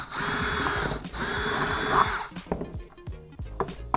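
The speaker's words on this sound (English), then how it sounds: "now we're gonna use our half inch drill bit to put a hole" A power drill with a half-inch bit whines steadily as it bores a hole in a homebrewing mash tun for a thermometer, then stops, followed by scattered knocks and clatter.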